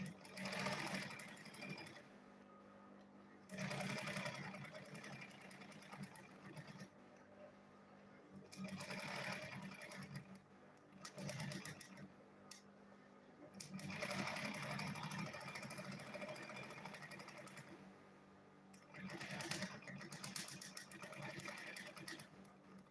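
A sewing machine stitches a lunch bag in repeated bursts of whirring, starting and stopping every few seconds, close up and fairly steady with brief pauses between runs.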